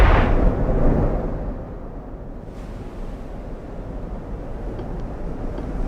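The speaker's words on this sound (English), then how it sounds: "We're shooting. Wow, it's a lot of guns." Heavy naval gunfire in the video game Ultimate Admiral: Dreadnoughts, opening with a loud booming blast that gives way to a sustained low rumble and roar, like surf or distant artillery, with a fainter report near the middle.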